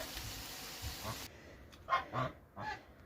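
Domestic ducks and a drake call in a village yard, a few short nasal honking calls close by after a stretch of faint background noise.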